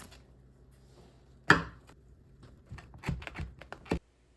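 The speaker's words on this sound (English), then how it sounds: "This crust is aggressive, and you can hear the noises as I'm trying to cut it." A knife sawing through a hard, aggressive crust on an Altoona-style pizza: a sharp crack followed by a series of crunchy scraping and snapping cuts, close and fairly quiet, ending abruptly.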